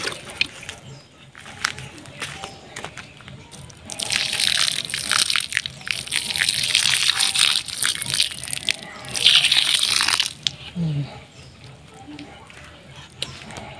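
Water splashing and gushing onto a potted calamansi plant and its soil, a steady pour lasting several seconds, close and moderately loud, with brief talk around it.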